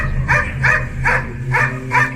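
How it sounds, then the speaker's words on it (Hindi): A dog barks five times in a steady rhythm, each bark clear and fairly close, over a low background hum with no talk. "उसके कुछ देर बाद ही उसने भौंकना शुरू किया"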